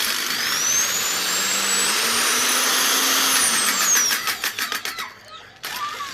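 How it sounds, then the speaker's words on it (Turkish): Electric drill fitted with a bit, running at high speed with a loud steady whine that rises in pitch, then stutters in short bursts as the trigger is pulsed before stopping and starting again. "Evet matkabımı getirdim. Ve şöyle bir uç taktım arkadaşlar."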